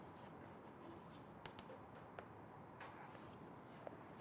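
Marker or chalk writing on a board during a lecture, faint scratchy strokes and light taps spread across a quiet, hissy room background.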